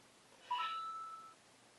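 A phone gives off a short electronic beep, a single brief tone fading quickly against a quiet background.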